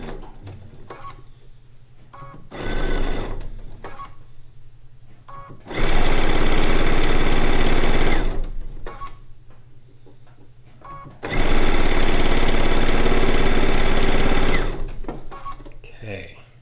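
Sewing machine stitching strips onto a log cabin quilt block, running in three bursts, two of them long and loud, close up with quieter gaps between where a voice talks.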